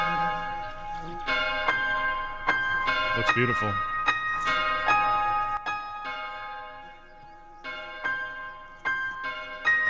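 A church-style bell tolls repeatedly with a steady ringing pattern in a song, playing beneath the music while a person speaks briefly over it.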